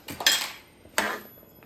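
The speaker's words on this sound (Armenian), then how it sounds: "Խառնում ենք, որպեսզի ասաֆրանը գնդիկներ չմնա։" A spoon knocks twice against a metal pot while saffron is stirred into heating water, two sharp clinks about a second apart, close and clear with no voices.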